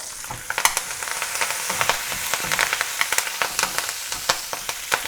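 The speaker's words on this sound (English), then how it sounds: "2 tablespoons of oil, I'm using sunflower, and then goes in 1/2 teaspoon of mustard seeds, 3 to 4 fresh curry leaves, couple of dried red chilies" Mustard seeds, fresh curry leaves and dried red chilies sizzle in hot sunflower oil, a steady close crackle broken by frequent sharp pops and spits from the seeds, with no voices over it.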